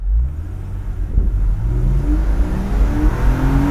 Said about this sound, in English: Let's give it a cheeky launch